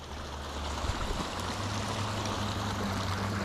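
Rainwater from a heavy rain flowing in a forest stream near beaver dams, a steady broad rushing and gurgling wash with a low rumble underneath, continuous throughout.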